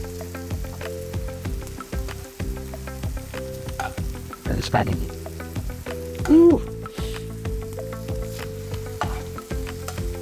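Shrimp sizzle steadily as they cook in a hot pan or on a grill after a little puree is added, a continuous frying hiss with stirring under a steady tonal background and a brief voice.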